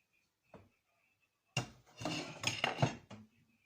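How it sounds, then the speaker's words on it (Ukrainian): A spoon stirs sifted flour into a honey cake batter in a bowl. After a brief knock, a burst of dense scraping and clinking runs close and fairly loud for about two seconds, with no talking. "Поступово додаємо просіяне борошно і постійно перемішуємо"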